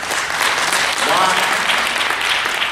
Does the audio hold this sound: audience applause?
yes